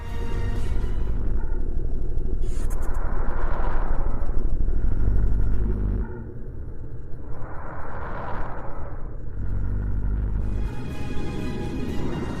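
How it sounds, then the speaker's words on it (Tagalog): A sonification of the planet Mercury: rough, noisy rumbling swells and fades in waves, like distant roaring static, with whooshing surges that rise and fall over a constant gritty texture. "Ganito ang tunog ng Merkuryo."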